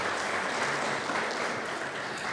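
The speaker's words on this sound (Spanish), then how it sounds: "Y Nimia Tapia, una vez más, fuerte aplauso." A crowd claps steadily and warmly at a women's football team presentation, a continuous dense patter of hands that holds level for the whole stretch without voices.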